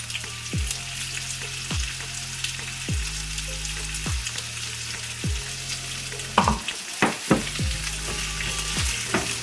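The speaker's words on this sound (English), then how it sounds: "While you stir the onions, you need to add 2 teaspoons of ginger garlic paste." Onions frying in a pan with ginger garlic paste for a brinjal curry, a constant sizzle broken by regular scraping stirs, with a clatter of utensil knocks near the end and no talking.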